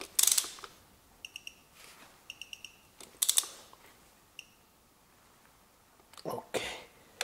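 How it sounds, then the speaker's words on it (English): Socket ratchet tightening bolts while assembling the timing chain on a Toyota Camry 2.4 VVT-i engine: several short bursts of rapid clicking, some brief and some longer, separated by quiet pauses, close and fairly crisp. "there is this my socket, and I fasten these two bolts"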